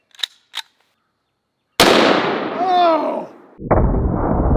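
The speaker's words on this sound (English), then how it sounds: "This is my Desert Eagle chambered in 50 AE, and I'll be loaded up with some Underwood ammo, 300 grain, jacketed hollow points" A Desert Eagle pistol chambered in .50 AE firing 300-grain Underwood jacketed hollow point rounds at a range, with one very loud close blast ringing out and then a second shot, after a short startled exclamation.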